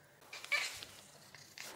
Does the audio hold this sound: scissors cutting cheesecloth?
no